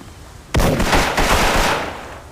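Video game gunfire in a tournament match: one sharp, loud shot opens a rapid burst of close firing lasting under two seconds, then tails off.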